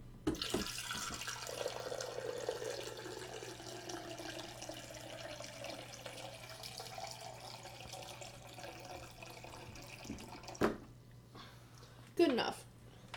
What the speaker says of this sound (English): I gotta fill my water cup for this one